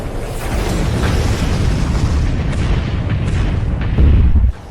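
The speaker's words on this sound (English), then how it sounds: "Main cannon, full power strike." A main cannon fires in an anime fantasy battle against an immortal sect, producing a loud, sustained rumbling blast with a heavy boom near the end, with no talking.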